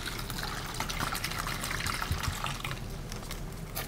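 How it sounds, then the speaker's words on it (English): Vinegar pours steadily into a container for a baking soda and vinegar experiment, a continuous close splashing and trickling liquid sound without pause. "First, we're just gonna pour all of this vinegar in there."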